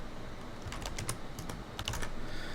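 Someone types a command on a computer keyboard: a quick, close burst of crisp key clicks, uneven in rhythm, then a short flurry of final taps.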